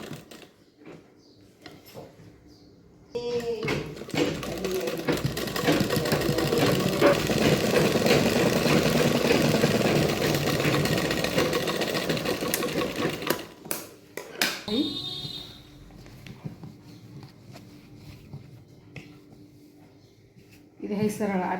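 Sewing machine stitching a blouse, a steady whirring run lasting around ten seconds, loud and close, then stopping; a person talks before and after the stitching.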